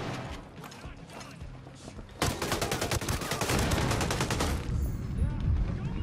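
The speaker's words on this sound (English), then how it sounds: "that's a shotgun" Shotgun blasts and heavy gunfire in the video game Ghost Recon Breakpoint, starting abruptly midway as a loud rapid burst of shots that continues for a couple of seconds over background game noise.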